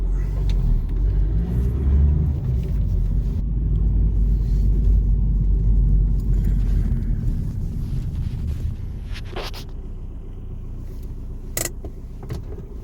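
A car drives through Liverpool city centre, a low steady engine and road rumble heard from inside the cabin, with a few brief knocks and clicks toward the end.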